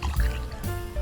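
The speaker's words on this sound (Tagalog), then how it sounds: "So lalagyan na natin ng tubig" Water poured from a tap into the prime hole of a Pedrollini JET100 1 hp self-priming water pump, a brief close gurgling fill with liquid splashing and trickling.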